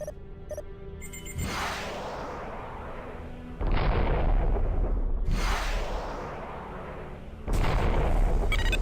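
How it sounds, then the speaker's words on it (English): Interceptor weapons fire and strike in FreeSpace: repeated bursts of loud roaring blasts, each swelling into a dense rumble and then cutting off abruptly, with a deep low-end thud. There is no talk. "fire your interceptors until the weapon subsystem has been destroyed"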